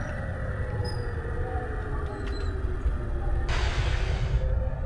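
A Sealdah–Dankuni EMU local train running in the Open Rails simulator gives a steady, continuous rumble of wheels and motors, joined near the end by a short burst of hissing air.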